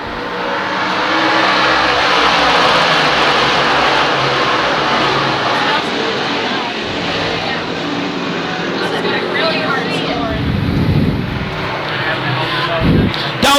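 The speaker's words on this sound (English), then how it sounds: "You can hear the roar as they start to pick up the throttle." Small-block modified race cars roar as the pack picks up throttle on an oval track after the green flag, a loud sustained engine wash swelling and shifting, with a race announcer talking over it throughout.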